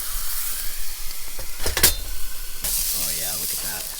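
Meat sizzles in a pan at a campsite in Big Bear, a steady close hiss with a louder burst of spitting midway, while people talk over it.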